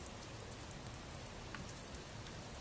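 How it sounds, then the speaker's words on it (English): Steady, unbroken rain patters across the whole stretch in the video game Adventures of Fei Duanmu, a dense hiss of drops on surfaces at even level with no voices. "the disgusting, despairing sound of rain"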